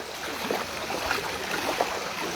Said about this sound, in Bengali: আজকে সকাল থেকে জল যে নামছে সেই জল নামার দৃশ্যপটটা দেখাচ্ছি